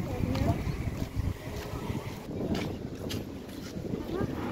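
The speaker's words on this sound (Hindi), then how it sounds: "हवा इतनी तेज़ चल रही है कि मेरा अबाया देखें कितना" Strong, cold wind blows outdoors in a steady roar and buffets the microphone in gusts, while someone talks over it throughout.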